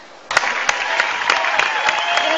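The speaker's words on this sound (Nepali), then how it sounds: "मीनाजीको लागि जोरदार ताली" An audience breaks into applause for Mina, a dance performer, starting abruptly after a brief quiet and continuing as steady, fairly loud clapping from a crowd.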